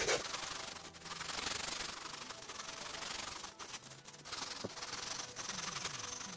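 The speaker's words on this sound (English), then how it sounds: "Now I have a little sanding block." A small sanding block rubs steadily over a carved foam tombstone prop, giving a continuous close scratchy rasp with brief pauses between strokes.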